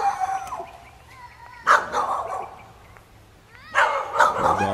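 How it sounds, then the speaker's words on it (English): Several dogs bark loudly and close by, in two sharp bursts of overlapping barks and yips separated by a short lull, with no talking. "The dogs think I'm going to hurt the kids."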